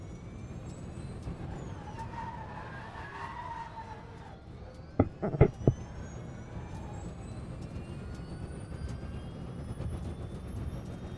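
A Ginetta G40 GT5 race car in Assetto Corsa Competizione at Circuit de Chambley lets out a loud, steady high-pitched drivetrain whine over road and tyre noise, with a short burst of sharp clatters midway.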